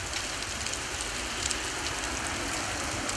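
A heavy rain shower pours down over an outdoor sports event, a dense, steady hiss of falling water that stays constant throughout with no voices.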